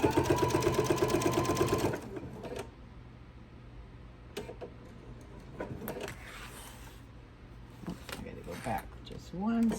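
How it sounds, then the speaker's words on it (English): A sewing machine sews a scant quarter-inch seam on an apron in a fast rhythmic burst lasting about two seconds, then stops, leaving soft handling sounds and a voice. "sew down the side so we can put, get this together, and then we'll pivot and we'll sew across"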